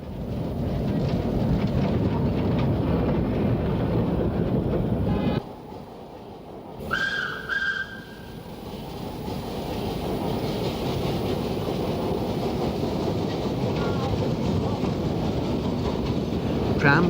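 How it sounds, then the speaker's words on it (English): A steam tram rolls through a busy Surabaya marketplace with a continuous rumbling chuff. A short whistle-like tone cuts through midway, and the din drops briefly before the rolling noise returns. "the tram chuffed importantly by"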